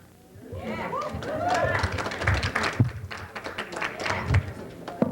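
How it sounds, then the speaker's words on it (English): Audience applause at a city council meeting: a room of people clapping in a dense, uneven patter that swells, mixed with voices and murmuring from the crowd. "I want to remind you that applause is not appropriate"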